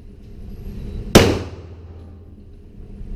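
A single sharp handgun shot fired one-handed at target practice from 35 feet, loud and close, with a fast decaying echo trailing into a quiet outdoor range.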